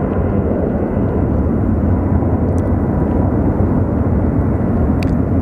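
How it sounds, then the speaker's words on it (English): A Southwest Airlines jet engine runs during a ground test at an airport, a loud, unbroken roar that stays constant throughout. "I thought it was like a 777 taking off, but I think they're doing an engine test."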